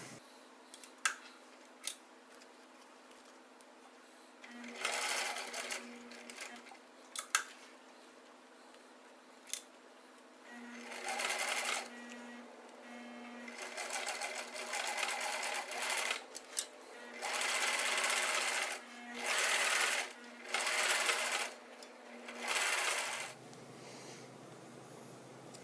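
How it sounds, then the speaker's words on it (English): A sewing machine stitches a DIY tactical gun belt in repeated bursts of fast, steady whirring that start and stop, with brief clicks and handling noise in the pauses and a constant low motor hum underneath. "So we're going to just keep sewing here."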